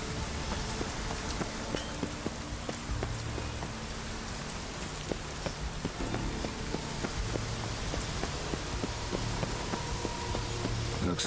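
Steady rain falling in the open world of The Witcher 3: Wild Hunt, a dense, continuous patter on surfaces throughout, with faint incidental game sounds mixed in and no talk.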